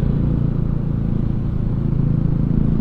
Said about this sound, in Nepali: दुईवटा बाइकमा चारजना हिँड्दासम्म नि